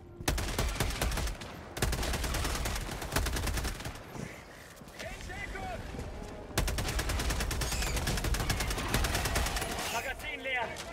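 Rapid automatic gunfire from Helldivers 2 as two players empty their magazines at once, loud dense bursts in two long stretches with a brief lull between, game effects and chatter mixed underneath.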